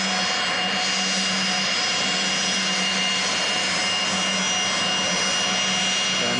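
Paul McCartney's jet roars in to land at Tullahoma Regional Airport, its engines producing a loud, continuous whine and rumble that holds steady throughout.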